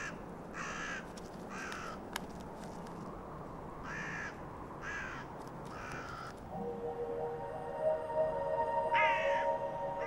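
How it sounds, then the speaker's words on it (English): Several crows caw in short repeated bursts over a carcass high in the Alps, with a steady outdoor rumble beneath and a faint tonal bird call toward the end. "it lets the crows clean the corpse first."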